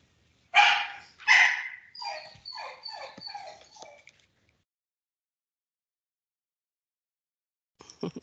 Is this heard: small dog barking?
yes